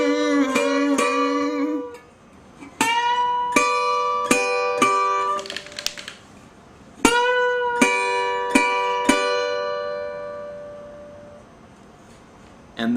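Slide guitar lick on acoustic guitar: a run of plucked, sliding notes on the top strings with sharp attacks, ringing sustained tones and brief pauses, played alone and up close.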